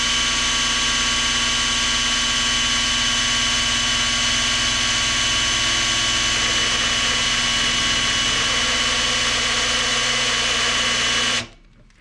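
A small Makita drill runs at full speed, spinning the oil pump of a 1957 Chevy small-block V8 to pre-lube it: a loud, steady whining motor drone that holds for about eleven seconds, then cuts off abruptly.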